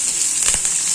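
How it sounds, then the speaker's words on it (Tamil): Onion, crushed garlic and curry leaves sautéing in hot oil for radish sambar, a brief close sizzling hiss with a soft stir in the middle. "இதை வதக்கிக்கலாம்"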